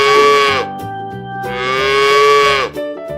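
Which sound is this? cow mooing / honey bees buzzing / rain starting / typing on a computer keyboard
cow mooing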